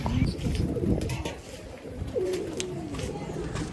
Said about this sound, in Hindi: कबूतरों का दाना डाला है जी, कबूतर अपने नीचे हो रहे हैं सारे